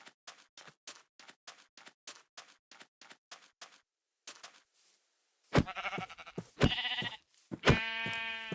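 A run of soft, rhythmic footsteps on blocky ground gives way to three loud, close, wavering sheep bleats from the video game Minecraft.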